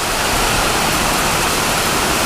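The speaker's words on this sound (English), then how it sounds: "And yes, it is pouring down rain." Heavy rain pours steadily in Louisiana weather, a dense, loud, continuous hiss of water close by, with no voices over it.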